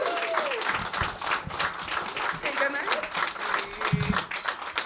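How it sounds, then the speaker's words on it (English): A comedy club audience claps for a comedian coming on stage, a dense spread of hand claps mixed with scattered whistles and cheering voices, moderately loud throughout. "Let's give her a big clap."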